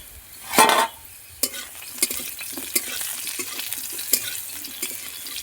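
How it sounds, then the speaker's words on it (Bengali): Food frying in a pan on a home stove, a burst of sizzle as the lid comes off, followed by steady frying with a string of scraping, clinking stirs, close and alone without talk. "এবার ঢাকনাটা খুলে একটু নাড়াচাড়া করে দেবো।"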